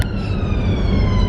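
Ambulance siren wailing close by, loud and sustained through the short stretch, with traffic noise underneath.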